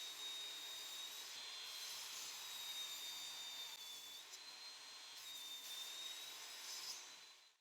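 Continuous power saw cutting wood pieces to size for a woodworking project, a steady loud whine with a high tonal edge holding throughout before stopping abruptly at the end.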